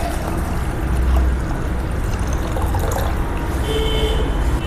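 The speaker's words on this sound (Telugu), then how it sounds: "చిక్కటి పాలకి హాఫ్ లీటర్ వాటర్ పోస్తున్నా" Half a litre of water poured into thick milk for semiya payasam, a continuous close splashing flow lasting a few seconds.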